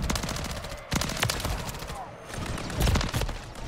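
MCW SMG fire in Call of Duty MW3, close, loud rapid bursts of automatic shots with brief gaps between volleys, game noise underneath.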